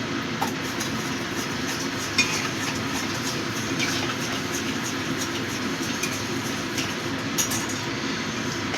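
Chicken curry cooks down in a pan over the flame, with soft sizzling and scattered light scrapes and taps of a stirring spoon against the pan under a steady, even background.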